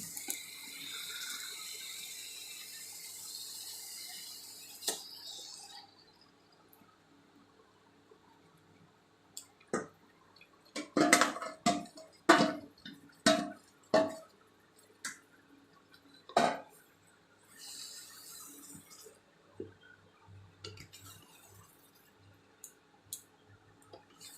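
Yogurt-marinated chicken with oil, salt, chili powder and turmeric goes into a pan for chicken kosha, followed by a run of sharp clattering stirring knocks and sizzle-like hiss, loud and close, with quieter rustling before and after.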